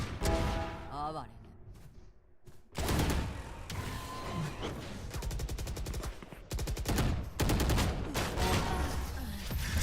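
Rapid bursts of video game gunfire, dense volleys and single shots crackling loudly through a dungeon-crawl battle, mixed with game sounds and voices talking over it.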